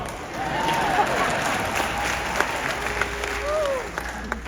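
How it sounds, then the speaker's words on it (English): An audience at a Christian motivational talk breaks into sustained applause, with a few whoops and indistinct voices mixed into the clapping. "you can clap for that, it's cool."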